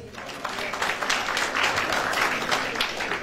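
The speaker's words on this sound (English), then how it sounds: "Let's give them a round of applause" An audience at a school regional competition claps for the winning high schools, a dense, sustained round of applause that rises slightly and carries on at a steady level.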